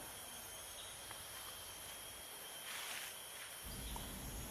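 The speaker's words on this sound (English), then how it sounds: "The high-pitched sound of the cicada and other forest insects can be heard loudly in the forest" Cicadas and other forest insects shrill in the Taman Negara jungle, a steady high-pitched buzz that swells briefly midway, with a low rumble coming and going underneath.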